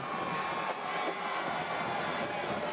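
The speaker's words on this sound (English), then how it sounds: "Crowd reacting to the fact that the ball went in the back of the net, but obviously not a goal" Stadium crowd at a Memphis 901 FC versus Detroit City FC soccer match, a steady, dense wash of many voices reacting as the ball hits the back of the net, with no sharp cheer burst.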